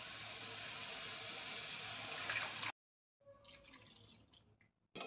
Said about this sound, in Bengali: এবারে এর মধ্যে আমি দিয়ে দেবো 2 কাপ দুধ।